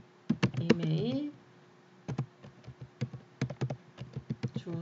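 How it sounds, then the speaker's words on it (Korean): Keys clatter on a computer keyboard while an email address is entered, bursts of crisp taps near and fairly loud, with a short stretch of speech early on. "주소라고 입력한 뒤 엔터 해서 한영 변환 했습니다"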